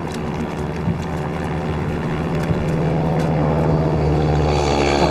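A propeller aircraft drones steadily overhead in a wartime setting, a continuous loud engine hum with beating rotor-like throb that holds constant throughout, with no speech.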